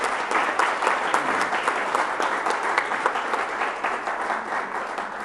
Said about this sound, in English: Round of applause for both of our candidates.